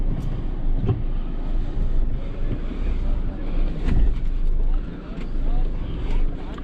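A 2020 Mahindra Thar on large tires climbing and descending an off-road slope, its engine rumbling steadily with bumps and jolts while a person talks throughout.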